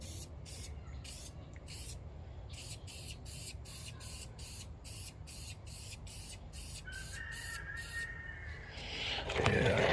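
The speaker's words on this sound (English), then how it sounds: "But spray a little less, so there you go." Aerosol interior dye from an LMR kit is sprayed onto Foxbody Mustang interior quarter panels in a quick series of short hissing bursts, about a dozen in a row, heard close up.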